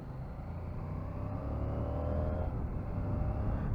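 A new 2022 CFMOTO 800MT motorcycle engine held under 5,000 rpm while riding, a low steady rumble that rises slightly, heard faintly with wind and road noise and no talk.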